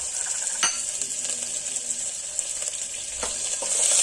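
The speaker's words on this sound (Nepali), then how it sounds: "अब प्याजलाई एकछिन फ्राई गर्नुपर्छ।" Chopped onion fries in hot oil in a pan for a Nepali-style vegetable dish, producing a steady, close sizzle with a few small clicks and stirring scrapes throughout.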